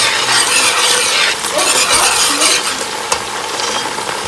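Iru (fermented locust beans) frying in hot oil with onions for Ofada stew, a steady close sizzle with stirring and scraping throughout and a sharp clink near the end, no voices.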